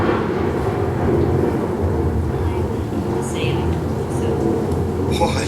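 Heavy rain pours steadily with rolling thunder in a dense, loud wash that holds throughout, with a few brief higher crackles near the end.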